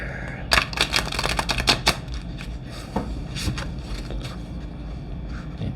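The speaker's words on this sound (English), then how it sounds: "That deck is difficult for me to shuffle, but let's do this." A stiff Notoria Tarot card deck being shuffled close by: a quick burst of crisp riffling clicks early on, followed by a few scattered taps and card rustles in a quiet room.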